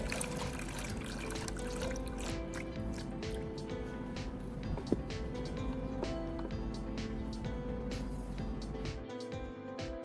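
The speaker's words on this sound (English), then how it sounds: "I'll drain out the dirty, neutralized liquid" Dirty neutralized liquid drains out of an old car battery, a steady trickling and dripping of fluid that runs continuously and close by, with no voices.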